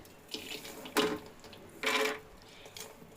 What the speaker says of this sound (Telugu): ఇలా కొంచెం వాటర్ తీసుకొని ఆ వాటర్లోకి మనం వేయించి పెట్టుకున్న వాటిని వేసేయాలి